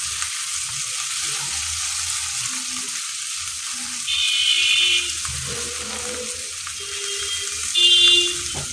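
Black pepper is stirred into pasta frying in a pan, a soft continuous sizzle with a couple of brief louder scraping stirs.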